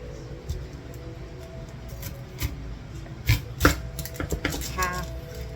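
A knife cuts turkey meatballs on a board with a few dull thumps and scraping strokes, with a couple of sharper chops near the middle over a quiet room hum.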